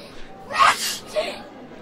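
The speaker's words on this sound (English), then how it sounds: "Jesus, she sneezed again." A single sharp sneeze from a girl in the video game Corpse Party: Book of Shadows bursts out, followed by a softer breathy after-sound, close and fairly loud.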